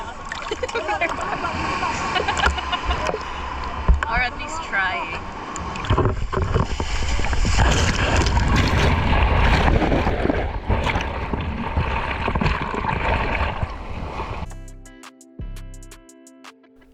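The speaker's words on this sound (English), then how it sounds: "We're currently riding some waves with our butt." Tour boat on an island-hopping trip around El Nido, Palawan, bouncing over sea waves with steady engine rumble, wind buffeting and water splashing against the hull, while people talk over it; the noise cuts off near the end.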